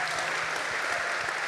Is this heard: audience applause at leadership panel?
yes